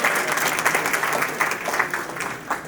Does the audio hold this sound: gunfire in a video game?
no